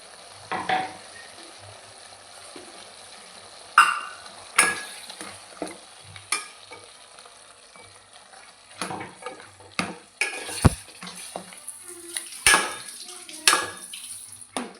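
Curry stirred and frying in a pan, with soft steady sizzling under repeated sharp scrapes and clinks of a utensil against the pan, close and moderately loud.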